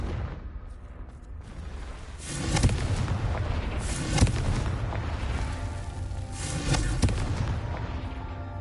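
Repeated Confringo blasting-spell explosions in the Hogwarts Legacy video game, several loud booming bursts a second or two apart over a rumbling, crackling backdrop.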